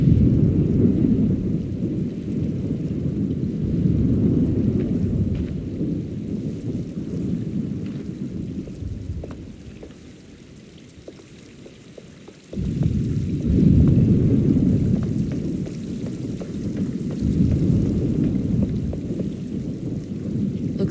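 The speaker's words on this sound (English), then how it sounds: "Looks like a storm's coming." Rain pours steadily in the Alone in the Dark video game while thunder rumbles deep and long, fading briefly mid-way before another heavy roll swells back in, a dense, continuous storm with no voices.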